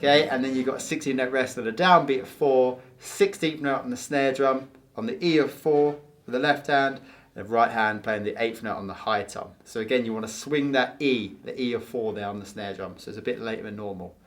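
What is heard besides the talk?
None of the usual background noises is heard.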